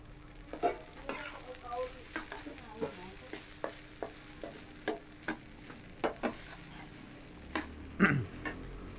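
Rice being stir-fried in a pan for a Khmer breakfast: a steady close sizzle with repeated sharp scraping and clanking strokes of the spatula against the pan, irregularly spaced, with one louder burst near the end.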